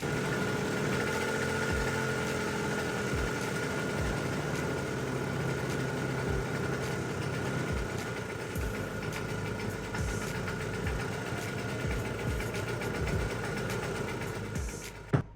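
A 50-year-old Garelli Eureka Flex moped engine idles steadily, a continuous mid-pitched putter with a faint knocking pulse that holds close and even throughout, with no talking.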